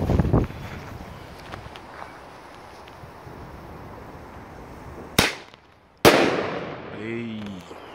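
Two sharp, loud firework bangs from a Thunder King bulk pack about a second apart, each a sudden broadband crack, over steady outdoor wind noise; the second one rings out with a fading tail, setting off an alarm.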